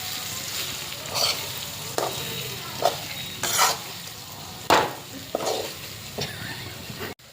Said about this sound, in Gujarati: ભીંડાનું શાક છે એ હલાઈ નાખવાનું છે આવી રીતે